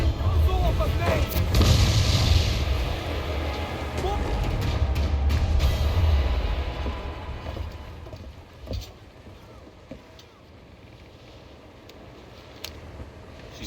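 Ship cannons firing during a naval battle in Assassin's Creed IV: Black Flag, heavy booming volleys over creaking, sea-wash ambience that fade toward a quieter tail, with shouted orders from crew mixed in.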